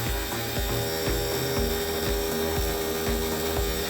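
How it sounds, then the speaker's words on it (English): A small DC motor runs at low RPM on a 12 volt battery, giving a steady close mechanical whir with a regular low thumping pulse about twice a second, and no voices. "motor is rotating at a very like low RPM right now"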